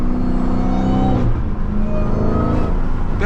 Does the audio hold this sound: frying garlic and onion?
no